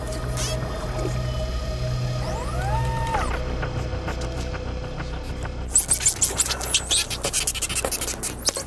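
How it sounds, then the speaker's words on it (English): Dolphin sonar clicks come in rapid, sharp bursts underwater, following whistles and a steady drone, growing louder and denser toward the end. "Dolphins use a form of sonar to investigate their world."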